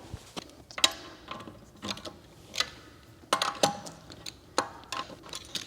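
Lug nuts come off a Tesla rear wheel in a run of sharp metallic clicks and ratcheting rattles, close and irregular, with short pauses between bursts and no talking.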